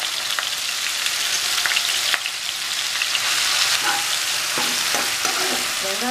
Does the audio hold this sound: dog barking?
no